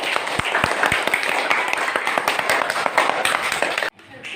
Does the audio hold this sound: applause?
yes